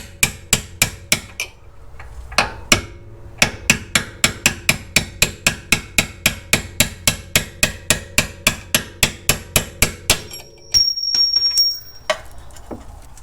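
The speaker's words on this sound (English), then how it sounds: "I am very gentle with the punch here. I don't want to damage the threads." Metal hammer strikes a punch in steady, evenly spaced light taps, around thirty in a row with a brief pause early on, during differential replacement on a 2003-2009 Mercedes CLK W209, ending in a short metallic scrape.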